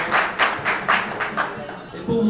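Ceremony audience at a rabbinic ordination celebration claps in a short burst of distinct rhythmic claps, a handful of regular hits before a voice resumes briefly at the end.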